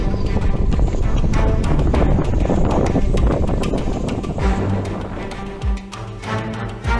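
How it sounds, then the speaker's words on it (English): Strong hurricane wind gusts roar around a boat in a boatyard, a loud, dense rushing blast that buffets the microphone steadily before easing slightly into uneven surges near the end. "The gusts are going up to 45 to 50 now."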